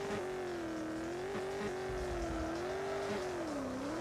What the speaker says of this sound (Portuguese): Vou tentar fazer um cavalo e pau com ele aqui, ó.